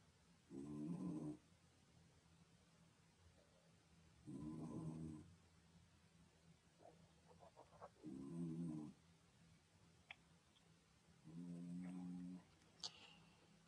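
A sleeping dog snoring at night, four slow, evenly spaced rasping breaths, close and fairly quiet, with soft rustles between them and no talk.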